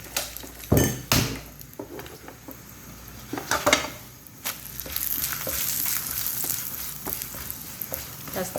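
A paratha for a chicken roll fries on a hot pan, sizzling steadily up close, with a few loud clattering knocks of a utensil against the pan early on and no voices.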